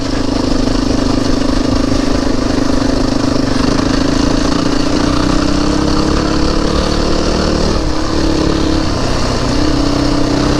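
Motorcycle engine pulling steadily in third gear on a ride over a fell road, a loud continuous drone with a slowly shifting pitch and wind rush, no voices.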